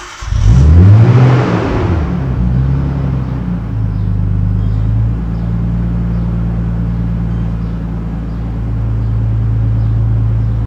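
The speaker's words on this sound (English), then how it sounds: "Let me play a clip for you guys so you guys can have an idea of how my Skyline sounds." A Nissan R32 Skyline is revved once, a loud rising and falling engine and exhaust sweep up close, then it settles into a steady rumbling idle with slight swells.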